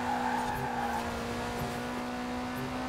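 Lamborghini Huracan drifting in Forza Horizon 4, a steady engine drone with a constant tonal whine and light tire squeal running throughout, close and continuous without speech.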